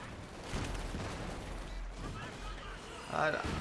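Mortar shells striking a unit in a real-time strategy match, dull booms and crashing impacts rolling under a commentator's continuous talk, with a sharper blast near the end.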